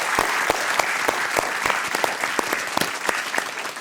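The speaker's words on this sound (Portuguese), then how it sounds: "Vamos dar uma salva de palmas para o Imba." A live audience at a São Paulo political talk event claps in a round of applause, with distinct individual claps standing out in a moderately dense, even rhythm.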